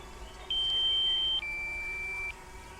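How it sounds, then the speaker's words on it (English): A DJI Mavic Mini drone beeps during a hand landing: two long electronic tones, the second slightly lower in pitch, sound back to back over a faint background hum. "Sorry about the beeping."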